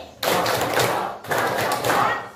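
A school class does the rhythmic 'tepuk pagi' morning clap, two loud bursts of many hands clapping together, close and crisp with a short pause between them.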